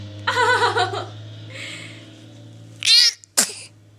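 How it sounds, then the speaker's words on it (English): A baby sneezes twice in quick succession, close and sharp, after a stretch of soft adult cooing and a quiet background hum. "We got video of baby sneezes."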